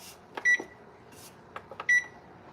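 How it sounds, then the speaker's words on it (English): A microwave oven timer being set in a home kitchen gives two short, bright electronic beeps about a second and a half apart, with soft button presses between them and no talking. "gonna put a timer on."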